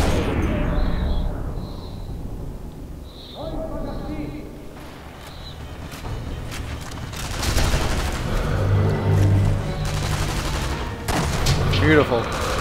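Gunfire in the WWII sniper game Sniper Elite V2, with bursts of shots and explosive crackle rising through the middle and end, heard under ongoing game noise and a talking player.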